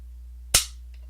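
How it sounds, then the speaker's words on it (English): A single sharp snap as an AR-15 trigger breaks during a trigger weight test, loud and close against a steady low hum, followed by a faint click. "We'll pull it 3 times and see where trigger weight is."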